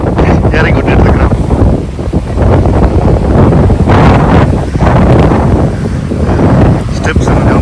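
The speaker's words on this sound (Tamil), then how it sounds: "அதுவும் காற்று வேறு தள்ளுதுனால அடிச்சு தள்ளுது" Strong wind buffets the microphone at a beach in steady, loud gusts, with surf rumbling beneath throughout.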